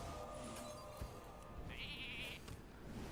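A Hearthstone Polymorph effect: a brief, faint sheep bleat against a quiet game backdrop of soft chimes, lasting about a second.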